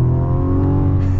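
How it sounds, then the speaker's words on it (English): A 2024 Mazda CX-90 SUV accelerates hard, its engine loud, close and steady throughout with a sustained drone and no voices. "But the thing that I really want to see is acceleration."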